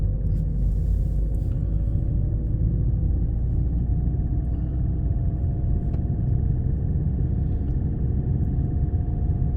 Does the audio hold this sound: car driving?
yes